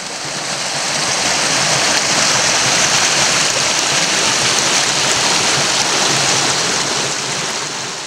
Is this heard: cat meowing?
no